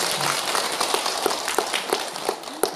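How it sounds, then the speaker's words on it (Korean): An audience claps at a Korean award ceremony for commendation recipients, steady scattered applause with individual claps standing out, moderately near. "다시 한번 박수 주십시오."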